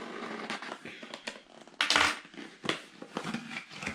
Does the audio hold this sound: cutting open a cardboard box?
yes